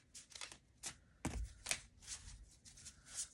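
Tarot cards shuffled and drawn, giving a string of soft riffling swishes and papery flicks in short bursts with a dull thump partway through, fairly quiet and close, with no voices.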